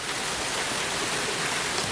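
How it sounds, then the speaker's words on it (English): A sudden rain shower pours down in a dense, steady hiss of drops hitting surfaces nearby, loud and unbroken with no voices. "it just starts showering out of nowhere"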